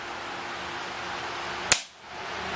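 A single sharp crack from a Webley Tempest .22 pellet pistol, Turkish version, fired at a chronograph, standing out alone against a steady background hiss and followed by a short quiet decay.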